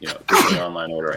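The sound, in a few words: sneeze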